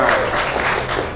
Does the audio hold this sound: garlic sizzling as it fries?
no